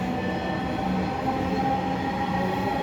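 A Dhaka metro train leaving Uttara station for Motijheel hums and rumbles steadily from inside the carriage, with faint tonal wheel and motor whines over a continuous rolling roar and no speech.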